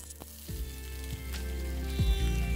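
Onion dropped into hot mustard oil with whole cumin seeds, a steady close sizzle of frying that swells as the pieces hit the pan, with a few light clinks of stirring.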